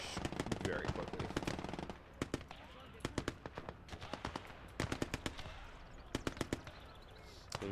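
Machine gun fire in the WWII game Gates of Hell: Ostfront, in rapid repeated bursts of sharp cracks with brief pauses between them, loud and fairly close throughout.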